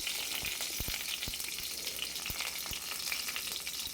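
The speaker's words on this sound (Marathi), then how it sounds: "चला तर कढईमध्ये तेल टाकून जिरे मोहरी लसूण टाकला आहे" Cumin, mustard seeds and garlic fry in hot oil in a wok, giving a steady loud sizzle with a few sharp pops and crackles close by, and no talk.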